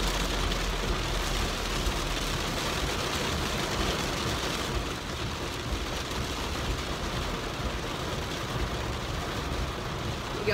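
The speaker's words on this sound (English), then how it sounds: "Y'all hear this rain?" Steady rain falls throughout, a continuous broadband hiss that stays fairly constant, with a faint low rumble underneath suggesting a vehicle interior or traffic nearby.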